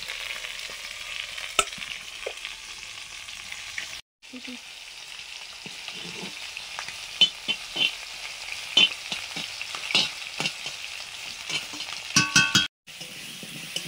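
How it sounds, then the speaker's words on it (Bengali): Potato pieces sizzle steadily in hot oil for a Bengali katla fish curry with ridge gourd and pointed gourd, with occasional stirring clatter and brief pauses in the frying hiss. "প্রথমে আলুগুলো ভাজছি, তারপর পটল ঝিঙে পরপর ভেজে নেব।"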